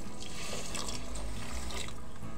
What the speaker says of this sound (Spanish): Le voy a agregar nueva agua.